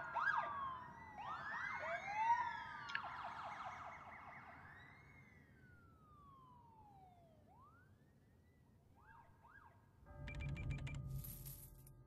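Emergency sirens wail in the city-building game SimCity, overlapping rising and falling tones that sweep and fade into the distance, followed by a few chirping blips and a brief clinking, coin-like game sound near the end.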